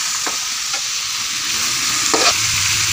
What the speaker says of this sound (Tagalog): ginisa na namin yung bawang at sibuyas. Sinunod naman niya yung chicken